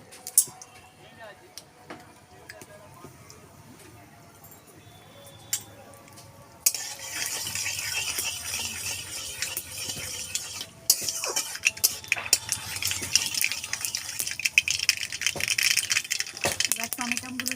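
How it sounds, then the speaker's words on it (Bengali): Mustard seeds go into hot oil for tempering and are stirred, bringing a sudden steady sizzle and crackle with utensil clinks against the pan, after a quieter stretch of faint kitchen noise. "ফোড়নে দেবো সর্ষে,"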